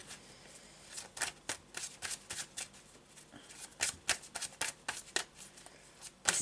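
Tarot cards being shuffled close up, a quick run of crisp riffling bursts and flutters repeating through the whole stretch, with no voice over it.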